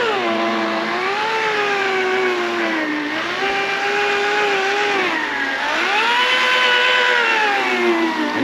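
A rotary polisher with compound runs slowly at about 1,000 RPM while fiberglass mold parts are made, a whining motor tone rising and falling in pitch as the trigger is feathered, loud and close, with no talk.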